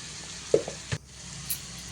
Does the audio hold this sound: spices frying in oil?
yes